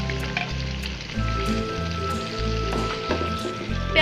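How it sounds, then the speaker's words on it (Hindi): Onions frying in ghee with spices in a pan, a dense, loud, continuous sizzle with crackling pops, close up and alone. "प्याज को 2-3 मिनट लगाकर गोल्डन ब्राउन कर लेंगे।"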